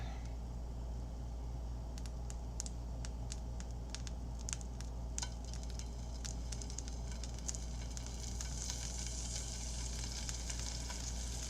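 Butter warming in a pan before mackerel goes in, crackling with scattered sharp pops over a low, constant hum, quiet and close with no voices.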